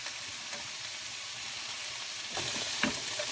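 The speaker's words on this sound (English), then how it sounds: "we've got a beautiful cream sauce cooking here" Cream sauce for a zucchini-noodle pasta bowl sizzles steadily in a pan, a continuous soft hiss that swells slightly near the end with faint stirring scrapes; no voices.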